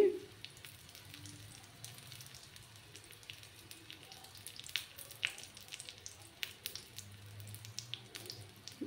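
Paneer papad patties fry in a pan over a low gas flame, giving a faint, soft sizzle with scattered light crackles and pops and no speech.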